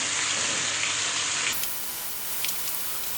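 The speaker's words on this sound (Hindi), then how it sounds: "कीमे की जो है हम लहसुन के अंदर अच्छी तरह से भुनाई कर देंगे।" Minced meat and garlic frying in a pan, a steady sizzling hiss that drops in pitch partway, with a few light stirring scrapes.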